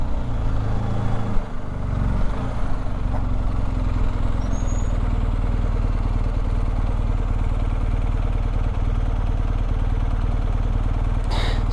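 A motorcycle on a touring ride engine runs loud and steady close by, rumbling and clattering as it rolls over an obstacle onto a pedestrian walkway, with a brief bump partway through.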